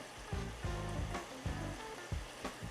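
Onions cooking down with a splash of Worcestershire sauce in a pan, stirred with a soft rhythmic scrape over a quiet, steady sizzle, a few gentle strokes with no talking.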